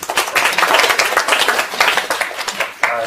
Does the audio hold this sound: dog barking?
no